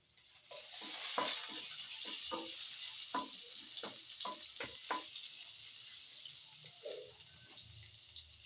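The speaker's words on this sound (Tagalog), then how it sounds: "magigisa na tayo guys ng bawang" Garlic sautéing in a hot pan for ginisang monggo with shrimp and alugbati leaves, a steady close sizzle and crackle of frying oil with a few scattered stirring clinks, no voices.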